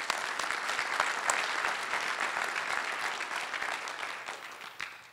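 A large conference audience at an AppSec keynote applauds the event staff, broad sustained clapping that holds steady for several seconds before thinning out and fading at the end.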